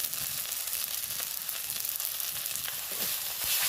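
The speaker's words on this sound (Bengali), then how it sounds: "ভালো করে মশলাটা কষিয়ে নেব আমি" Spice paste with ginger paste, turmeric, cumin and coriander powder sautés in a dry pan for a bhetki fish curry, a continuous close sizzle with soft scraping stirs and occasional louder spatters.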